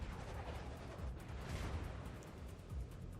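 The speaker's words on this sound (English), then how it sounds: "Now I decided to continue shooting the battleship" Warship guns in World of Warships fire at a battleship, a dense continuous rumble of naval gunfire with rolling low booms and no voices, fairly loud and sustained.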